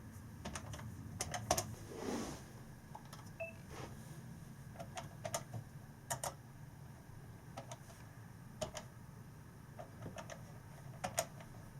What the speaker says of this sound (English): film just myself typing and hopefully get the sound of the keys on there